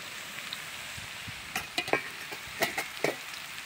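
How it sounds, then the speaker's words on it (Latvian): Mushrooms dropped into hot sizzling butter in a pan, a soft steady frying hiss with a few crackles and light stirring taps close by. "sviestiņš jau čurkst, aiziet sēnītes."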